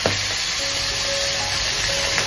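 Bele fish frying in hot oil in an iron wok, a steady close sizzle running the whole time with a few soft pops and clinks.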